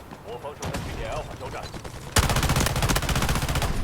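Gunfire in the Delta Force Mobile shooter game, with scattered shots followed by a loud, sustained rapid automatic burst close by, while a player's voice talks underneath.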